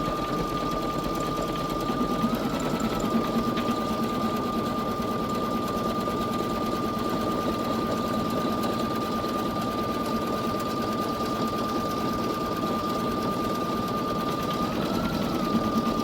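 A Baby Lock Flare embroidery machine stitches continuously, a steady fast mechanical whir with a sustained tonal hum, close and even throughout with no talking.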